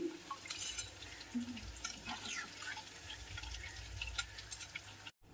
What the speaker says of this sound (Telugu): లో ఫ్లేమ్లో పెట్టుకొని ఒక్కొక్కటిగా ఈ విధంగా తిరగేసుకొని ఫ్రై చేసుకోవాలి